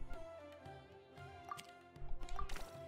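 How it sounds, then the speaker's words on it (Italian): A soft, watery game animation effect plays: quiet drips and squishy liquid plinks with a few brighter droplet tones, faint and alone. "È tipo il suono dell'acqua."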